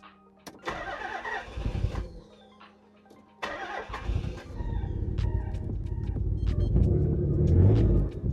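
A Nissan 300ZX engine cranks and catches after sitting unused for nine years, with a first burst of rumbling start, a pause, then a second start that settles into a steady idle and rises toward a rev, close and loud.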